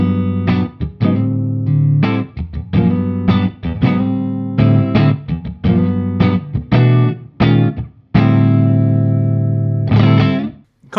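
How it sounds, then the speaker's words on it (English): An electric guitar plays clean through a 100-watt Marshall 2959 Super Lead amplifier with reverb: a string of plucked notes and chords, some short and clipped and others left ringing, warm and bassy with a little reverb tail. "Have a listen to the clean tones in this amp."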